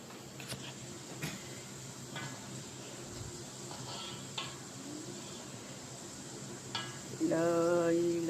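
Vegetables fry in a pan with a constant sizzle, broken by scattered scraping taps from stirring and a louder surge of hissing near the end.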